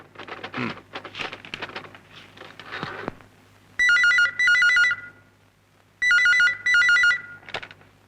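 A telephone rings in a Malayalam movie scene, two bursts of loud, bright double rings separated by a pause, after some quieter shuffling and movement.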